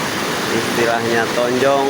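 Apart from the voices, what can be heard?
river flowing at Curug Leuwi Tonjong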